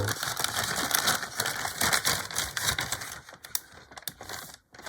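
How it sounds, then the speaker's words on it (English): A crinkly plastic bag holding scale model kit sprues gets handled up close, with dense crackling and rustling that thins out and stops near the end. "And we're back to the crinkly bag."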